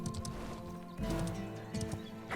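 Horse hooves clip-clopping in the fantasy video game Ashes of Creation, a steady walking rhythm of soft thuds under game music, with one faint neigh and no talk over it.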